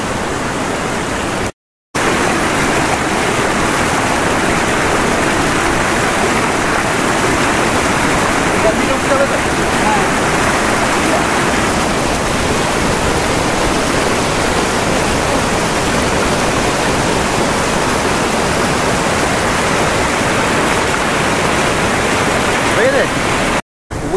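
A waterfall at Dudhia near Siliguri in North Bengal roars as a dense, steady rush of falling water, loud and close, filling the whole stretch with only a momentary break.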